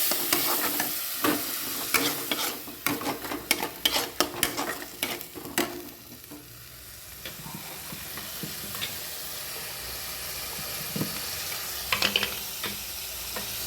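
Fried onions with spice paste stirred and fried in a pan, with sharp clattering spatula strokes and a sizzle at first, then a softer, steady frying hiss with occasional scrapes.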